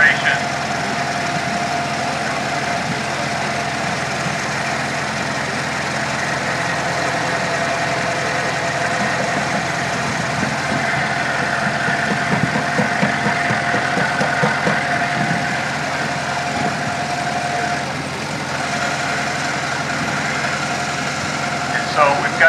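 A grain grinder with metal burr plates grinds grain finer toward flour at a farm park fall harvest demonstration, a steady mechanical hum and rattle running continuously at moderate volume.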